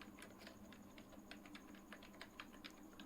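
Quick light clicks of typing on a computer keyboard, an even patter of keystrokes at moderate pace, faint and close with no talking.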